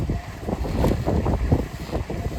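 Gusty wind blows outdoors, a steady broad rush rising and falling in loudness for the whole stretch, close to the microphone with buffeting low rumble and no voices.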